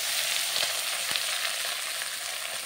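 Drumstick leaves sizzling in hot mustard oil in a wok, a dense steady crackle with a few soft scrapes of stirring, close and continuous with no talk.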